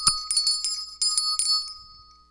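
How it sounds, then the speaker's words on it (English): A handheld physical bell rung several times in quick bright strikes, clear metallic tones that ring out and fade near the end, close and without talk. "Hey, Dirty, I'm going to ring the bell."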